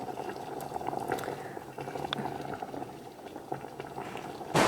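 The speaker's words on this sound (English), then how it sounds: "I like to let it boil in just a tomato for a little bit before I put water." A tomato boils in a pot with no water added yet, making a steady bubbling simmer that grows into a louder burst at the very end. No voices.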